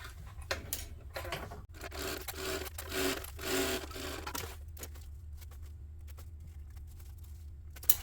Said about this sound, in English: I'm just going to sew all the way across, 1/8 of an inch